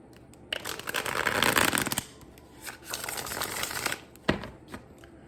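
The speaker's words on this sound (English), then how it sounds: "Let's do one more quick shuffle here." Tarot cards are shuffled in several bursts of brisk riffling and sliding, close and fairly quiet, with brief taps and pauses between and no talking.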